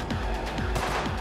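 Rapid gunfire from a gun in Cyberpunk 2077, aimed at a car the player is trying to blow up. About five or six muffled shots come in quick succession over a heavy, continuous low rumble.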